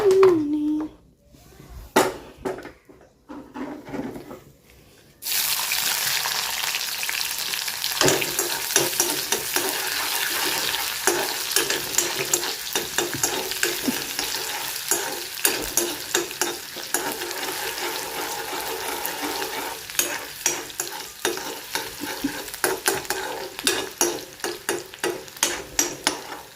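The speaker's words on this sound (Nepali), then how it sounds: "प्याज पाक्दैछ गाइस" Onions fry in a pan with a continuous sizzle and repeated stirring scrapes after a few quieter seconds of brief sounds at the start.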